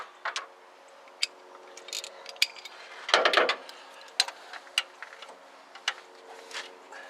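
A ratchet with an extension clicks in short, irregular bursts while tightening the engine belt on a 1969 Lincoln Mark III, heard close up, with a denser clatter of metal in the middle.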